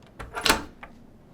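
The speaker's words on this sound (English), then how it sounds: "she's locking the door" A door being locked in a TV episode: a few dull knocks and clunks followed by one sharper metallic click at the centre, then a faint later tap, close and fairly clear without talking.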